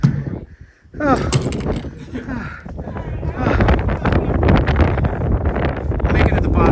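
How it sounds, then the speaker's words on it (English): Strong gusts batter the microphone on an icy mountain summit hike in the Smokies, a loud, roaring rush that swells and stays heavy, with people's voices and exclamations mixed in. "it's too windy."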